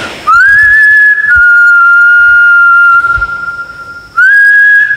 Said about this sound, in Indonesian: Gua coba bersiul beberapa kali ya